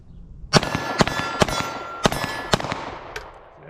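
A Sig P365 XL pistol fires at an outdoor range: about seven sharp, ringing shots at uneven intervals, each with a short decaying echo, close and loud.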